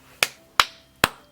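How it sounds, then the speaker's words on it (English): A slow clap: three sharp, separate claps spaced about a third of a second apart, crisp and close, each decaying quickly into quiet. "Slow clap."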